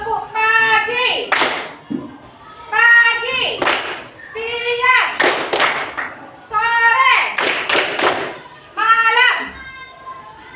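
A class of students claps out a rhythmic routine in bursts of quick patterned claps, alternating with a teacher's call and the children's loud chanted replies, all close and lively.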